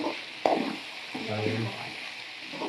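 Capsicum masala curry simmering in a pan on medium heat, a soft continuous sizzle with a brief clatter of a spoon or utensil, faint and close.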